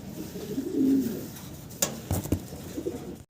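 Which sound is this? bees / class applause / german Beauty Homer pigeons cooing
german Beauty Homer pigeons cooing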